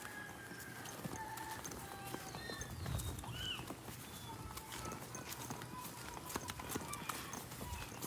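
Hooves of a water buffalo plod steadily over soft, muddy ground, the large animal walking nearby amid outdoor noise, with faint voices in the background.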